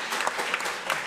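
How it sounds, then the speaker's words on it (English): Brief burst of audience applause for the speakers at the opening session of a winter school event, dense and fairly close, lasting about a second. "I would like to give a big applause to our speakers"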